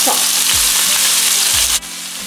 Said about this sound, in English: Now our oil is nice and hot, so we're just going to add in our veggies